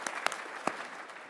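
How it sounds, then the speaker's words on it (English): Brief scattered clapping from a conference audience at a political gathering, a few sharp isolated claps over a low background murmur. "yes, you can clap for them"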